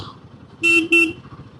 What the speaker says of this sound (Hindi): एक तो हॉर्न भी करना पड़ता है, हॉर्न के बगैर तो कोई हटता ही नहीं है